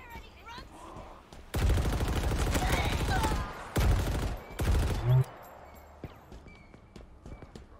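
Chain gun firing in Halo Infinite, loud sustained bursts of rapid-fire rounds in three stretches separated by short pauses, with quieter game ambience and scattered impacts before and after.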